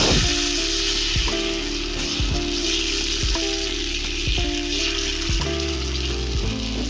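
Thin, watery tomato neer dosa batter sizzles steadily on an oiled hot griddle, a constant crackling hiss with faint repeated thuds underneath and no voices.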